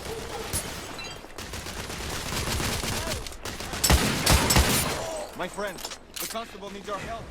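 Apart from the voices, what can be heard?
gunfire in the video game The Order: 1886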